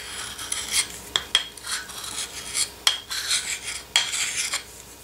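A knife blade is drawn across a sharpening surface in a series of short, rhythmic rasping strokes, close and fairly quiet, with no voices.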